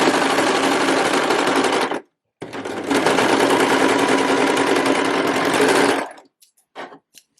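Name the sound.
sewing machine stitching a raw fabric edge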